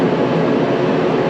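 A shop heater runs loudly and steadily on a freezing day, a dense continuous roar with no pauses or talk.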